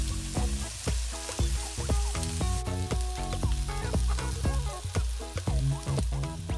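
Pork belly sizzles and crackles steadily in a hot pan, close and busy with dense popping fat and occasional sharper scrapes as it is turned and cut.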